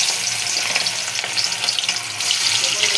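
Chicken pakora frying in very hot oil, giving a dense, loud, continuous bubbling sizzle close up, with no talking.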